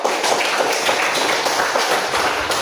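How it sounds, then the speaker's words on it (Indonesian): Classroom applause for a classmate named Aldo: a steady, dense patter of many hands clapping together, continuous and fairly close for the whole stretch. "Kita beri aplaus bagi teman kita Aldo"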